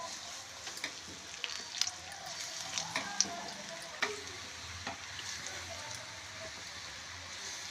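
Mixed-lentil fritter batter of moong, cowpea, chana and urad dal dropped into hot oil, a faint bubbling fry with scattered small pops and crackles in a quiet room.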